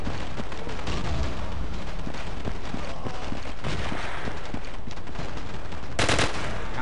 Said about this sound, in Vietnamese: À bắn liên thanh hả?